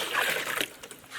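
Water splashes and splatters outdoors on a cold mountain trek near Tungnath, a brief burst of close, hissing spray that fades into a lighter trickle.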